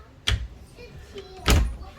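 A vintage Bendigo tram door at a tram stop, heard as two sharp mechanical thuds about a second apart, the second louder and ringing briefly, with faint background noise between.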